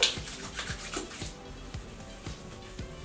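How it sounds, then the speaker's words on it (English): Toothbrush scrubbing over the lips to exfoliate dead skin, a close, steady run of soft bristly rubbing strokes in a quiet room. "while I'm brushing my teeth, make sure that I'm exfoliating my lips as well to get rid of any like dead skin"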